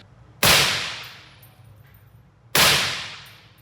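Two suppressed shots from a .308 DMR rifle fitted with an Anechoic 30L silencer, each a sharp, loud crack followed by a decaying ring, spaced about two seconds apart.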